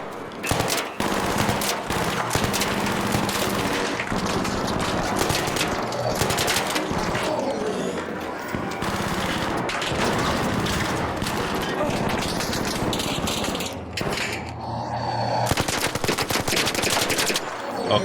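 Sustained automatic gunfire from a video game as players shoot at robot enemies, with dense rapid bursts of shots running loud and nearly nonstop throughout, a brief lull near the end.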